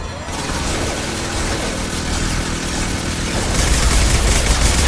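Dense, continuous automatic weapon fire and battle noise from the video game Mass Effect 2, loud and unbroken across the whole stretch and growing slightly heavier near the end.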